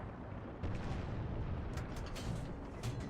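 Tank cannon fire in War Thunder's Berlin battle, heard as a dull booming blast amid rumbling battlefield noise, moderately distant.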